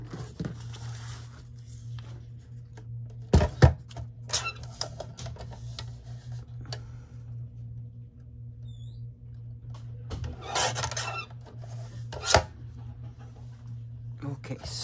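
Paper pieces for a collage journal are trimmed with a few sharp snips and rustles spaced between quiet stretches, close and fairly soft, with faint talk.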